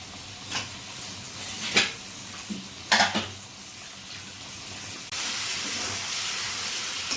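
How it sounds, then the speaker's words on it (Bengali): Chicken pieces hit hot oil and cooked-down spices in a pan, with a few stirring clatters before a loud, steady sizzle rises and holds. "মশলাটা কষে যেই তেল ছেড়ে দিয়েছে তখন এই চিকেনের পিসগুলো তো দেওয়া হচ্ছে"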